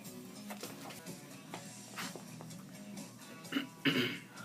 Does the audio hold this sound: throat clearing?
yes